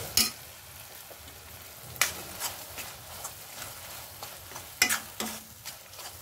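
Red chilli powder, homemade spice and pav bhaji masala sautéing in oil for pav bhaji, stirred until the oil separates: a soft, low sizzle with a few sharp scraping stirs spaced a second or two apart, close and fairly quiet.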